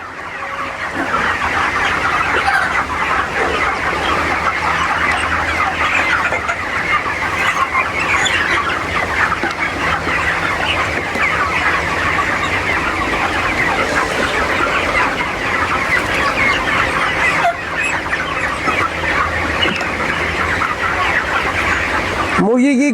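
A dense, continuous chorus of clucking from many broiler chickens fills a poultry farm, loud and close, with voices talking faintly underneath.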